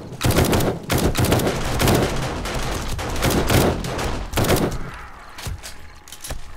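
Gunfire in the video game 7 Days to Die with the Darkness Falls mod: a rapid string of loud, close shots in quick succession, thinning out toward the end.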